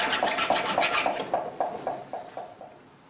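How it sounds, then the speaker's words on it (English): A file rasps across a metal drill press vise in steady, even strokes, about ten of them at a regular rhythm. The scraping is close and clear, there is no talking, and the strokes fade slightly toward the end. "And but we'll take a few minutes and file that."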